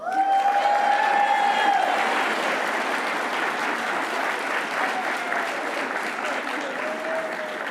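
A crowd at an awards ceremony applauds service honorees with sustained, dense clapping that stays loud and steady throughout, briefly over a held musical tone at the start.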